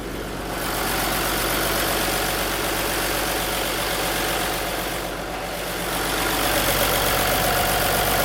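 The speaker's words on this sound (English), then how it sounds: "And there's the engine running and everything." The engine of an International 9200i truck with a newer turbo runs at a steady idle, loud and close. The diesel drone holds with a broadband rumble and slight swells, and no one speaks.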